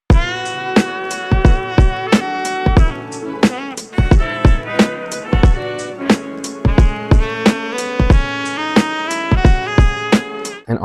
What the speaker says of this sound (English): So if we go ahead and put the sample and drums together,